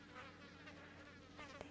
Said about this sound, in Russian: И там на фоне эти мухи летают, жужжат.